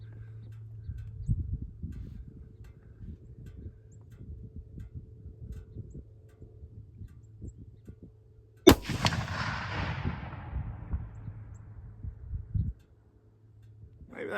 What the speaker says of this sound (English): we're gonna shoot one more shot